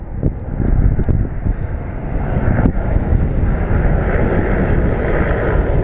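Airplane approaching Phoenix Sky Harbor International Airport, a loud broadband engine roar with rumbling low end and wind buffeting, holding steady and close throughout.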